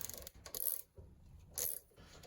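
Ratchet turning a 12mm socket during a RockShox Monarch Plus rear shock service, a few short clicking bursts with brief pauses between them, close and fairly quiet.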